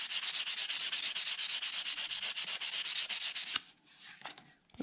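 Hand sanding with fine 400 to 600 grit sandpaper on a cottonwood bark carving makes rapid, rhythmic back-and-forth scratchy rubbing strokes, close and steady, then slows to a few scattered rubs at the end.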